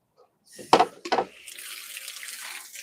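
A tap is turned on and water runs into a bowl to fill it for dogs, opening with a few splashing bursts before settling into a steady, close stream.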